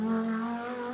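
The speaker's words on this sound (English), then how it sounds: "Anders Fjordbach comes up towards us, ready to turn into the first of the two Lesmo curbs" A GT2 race car at Monza approaches the first Lesmo curve, its engine a sustained high-pitched drone that fades slightly as it passes at moderate distance.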